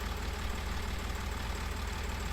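Tractor engine idling on a back-yard farm, a low steady rumble with a regular throbbing pulse, fairly quiet and unchanging throughout.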